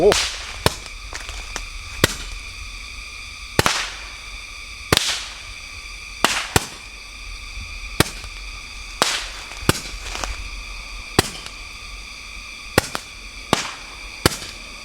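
Butterfly firecrackers set off outdoors at night crack as a string of sharp, loud separate bangs, about a dozen spread irregularly over the span, each a crisp snap with a brief ringing tail against a quiet background.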